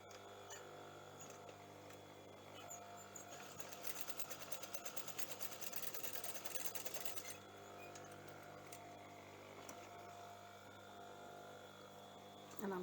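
A sewing machine stitches straight down the middle of a top being made with shirring elastic, running in a steady mechanical whir for a few seconds with faint hum before and after.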